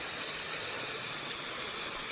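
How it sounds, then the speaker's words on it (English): A rushing waterfall on a hiking trail in the Alpine Lakes Wilderness, Washington, heard as a steady, dense broadband roar that stays loud and continuous throughout with no pauses. "This is the coolest waterfall yet."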